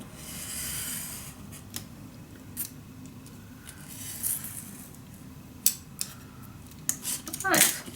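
Paper for a mini album is cut along a ruler, with scraping, rubbing strokes and a few sharp snips and crinkles, close and quiet, building to a louder rustle at the end.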